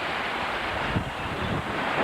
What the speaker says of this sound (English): The usual slipway that we use has a few waves coming over.